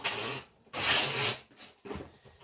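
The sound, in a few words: packing tape gun dispensing tape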